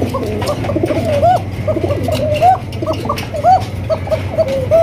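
Pigeons coo in loud, repeated rolling phrases close up, one call after another over a low steady hum, with no talking.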